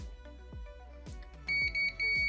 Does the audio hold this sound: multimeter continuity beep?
yes